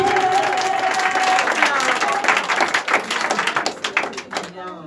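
A church congregation in Divo, Côte d'Ivoire applauding for Jesus: dense, close, rhythmic clapping from many hands with voices mixed in, thinning out toward the end.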